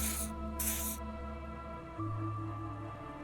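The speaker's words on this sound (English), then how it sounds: "He douses you with the odd-smelling spray" A hissing spray douses the player character in Disco Elysium, two short bursts in quick succession over a steady game music bed, the spray close and fairly loud.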